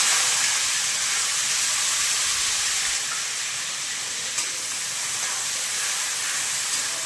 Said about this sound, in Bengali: পেঁয়াজটা হালকা ভাজা হতে দেবো